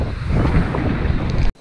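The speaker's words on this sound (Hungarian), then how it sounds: "Hú, de fúj a szél, komolyan mondom, az előbb szerintem ennyire nem fújt." Strong wind roars across the open water, buffeting the microphone in a loud, steady rumble with wave wash beneath, then cuts off abruptly.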